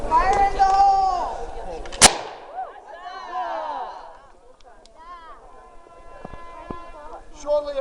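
Cannon fire from a Dragoon cannon crewed by costumed pirates at a historical reenactment festival: a single sharp, loud blast around the two-second mark, with talk and crowd voices before and after it.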